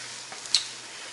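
Cheese sandwiches with fried eggs frying in a pan, a steady close sizzle with one small crackling pop and no talking.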